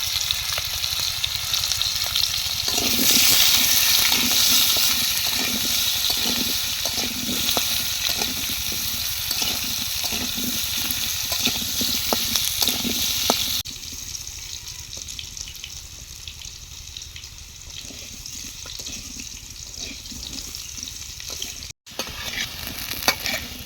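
Potatoes sizzle in hot oil in a home kitchen as a spoon scrapes and stirs them in repeated strokes, the frying hiss loud at first and then quieter after a sudden drop partway through.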